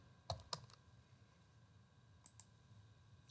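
Keys on a computer keyboard pressed while entering a search term, with two sharp, close clicks at the start, then a pause and a couple of softer taps, faint and alone.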